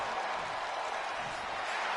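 Arena crowd in the WWE 2K25 wrestling video game cheering as a steady, dense wash of noise that holds evenly for two seconds with no distinct voices standing out.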